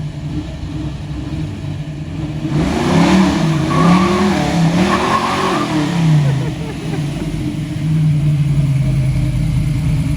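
A 1970s Chevy Nova with a Ride Tech suspension install rolls by, its mid-pitched V8 engine revving and rising as it accelerates, then settling to a lower steady rumble, fairly close.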